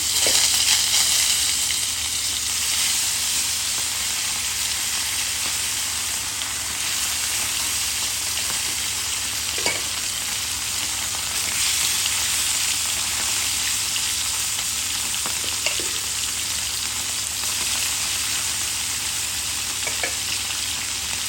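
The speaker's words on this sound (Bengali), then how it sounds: "দিয়ে দিলাম মাছ ভাজা।" Tilapia fish frying in hot oil: a loud, continuous bubbling sizzle that holds steady throughout, with a few faint clicks and no voices.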